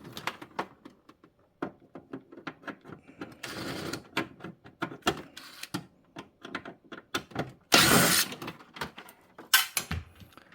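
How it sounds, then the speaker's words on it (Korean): Screws being undone on a Samsung Wind-Free floor-standing air conditioner during disassembly for cleaning: a run of sharp, irregular mechanical clicks and taps, with two longer rattling bursts of handling noise, close and fairly loud with no talk. "나사 하나만 풀르면"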